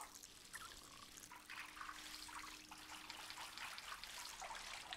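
A Sim's shower running in The Sims 2, a steady, soft hiss of falling water that stays constant and fairly faint, with no voices.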